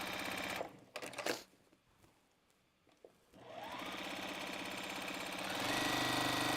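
A home sewing machine stitching scrap fabric, its pedal about halfway down, whirs in fast steady bursts, pauses briefly, then runs again louder and continuously.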